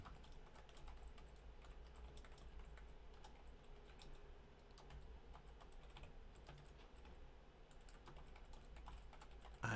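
Quiet, steady clicking of typing on a computer keyboard, faint and continuous over a low background hum with no voices.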